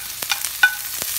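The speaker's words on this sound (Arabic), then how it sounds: "بعدين نضيف البصل، البصل" Sliced onions and celery stirred in hot oil in a pan, heard as a few brief, light scraping clicks over a faint, low sizzle, with no talking.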